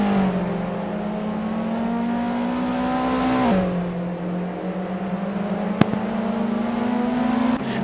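Touring race cars in a racing video game drone with a steady, loud engine whine that dips at a gear shift and climbs again, with a sharp click near the end.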